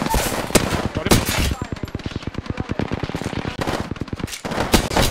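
Automatic gunfire from a shooter video game: rapid, loud bursts rattle almost nonstop, with brief pauses between volleys.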